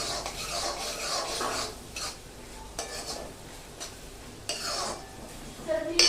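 Onions with turmeric are sautéed in a pan for Bombay-style pav bhaji, with a spatula scraping and clinking against the metal in irregular strokes over a light sizzle.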